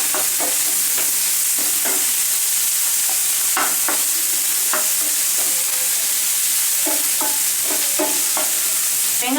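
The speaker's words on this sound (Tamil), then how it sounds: "மேலே உப்பு போட்டுட்டு நல்லா ஒரு தடவை வதக்கி விடுங்க" Onions and tomatoes sauté in a pan for spicy chilli chicken, a steady bright sizzle running throughout with irregular scraping stirs of the spatula cutting through, close and fairly loud, no talking.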